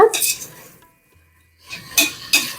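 Vegetables for hotel-style chicken noodles are tossed and stirred in a pan over high flame, with scraping metallic clatter at the start, a near-silent pause, then two more loud scrapes and sizzling bursts.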